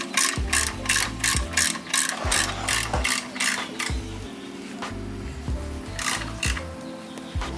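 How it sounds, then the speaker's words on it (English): Ratchet tightening the oil drain plug on a BMW E93 M3 with an S65 engine, a fast, steady clicking of the pawl in repeated strokes, close and clear, with short pauses between pulls. "so you want to tighten this down to 25 Newton meters"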